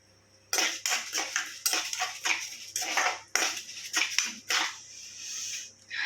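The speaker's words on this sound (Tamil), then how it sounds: "சிறுபருப்பு வெடிக்குது பாருங்க, சவுண்ட் கேட்குதுங்களா?" Bursts of crackling and sizzling from moong dal frying in hot ghee, popping in irregular clusters with brief quieter gaps between.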